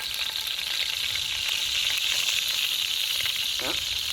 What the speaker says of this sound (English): Bit of wok on. First thing we're going to do is a bit of peanut oil.